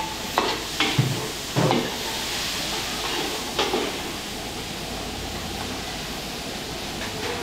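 Garlic and onion sauté in a pan for pakbet, a steady close sizzle with occasional stirring scrapes and clanks near the start, and no talking.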